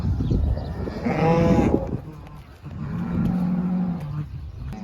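A single long, loud cow moo with rich harmonics, followed by a lower, quieter lowing call, with background farm noise on a cattle farm in Saudi Arabia.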